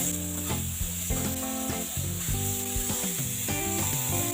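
Onions sizzle in a hot frying pan while mushrooms season nearby, a steady close frying hiss running under harmonic background music without speech.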